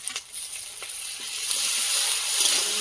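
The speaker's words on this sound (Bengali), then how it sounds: "আদা রসুন বাটাটা দিয়ে দেবো।" Ginger-garlic paste sizzles steadily in hot oil over already-browned onions on a new stove, a continuous bright frying hiss that thickens toward the end, with a few faint clinks of stirring.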